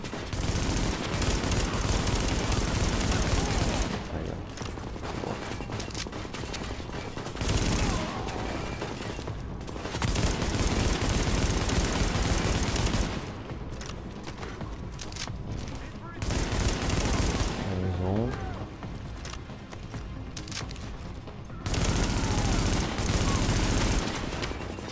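Enemy turret gunfire in the Tom Clancy's The Division beta: loud, dense, sustained bursts of automatic fire fill long stretches, separated by short lulls.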